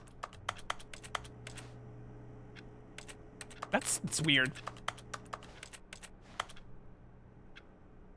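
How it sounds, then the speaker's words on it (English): Sparse keyboard clicks from the video game The Stanley Parable tap out irregularly, with a short spoken remark partway through and scattered single keystrokes continuing after it. "Why does everything make a keyboard sound?"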